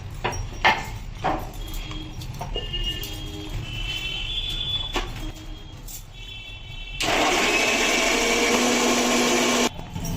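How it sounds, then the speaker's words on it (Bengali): A kitchen mixer grinder blending tomatoes into paste switches on partway through, a loud steady whirring roar that holds for a few seconds and then stops abruptly, after quieter clattering and handling sounds. "এবার টমেটোগুলো ভালো করে পেস্ট করে নেব"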